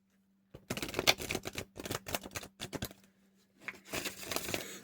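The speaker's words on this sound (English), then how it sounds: "I'm going to do 3 shuffles." Three rounds of riffling as a small deck of oracle cards is shuffled, each a burst of quick crisp flutters separated by short pauses, close and fairly quiet, over a faint steady hum.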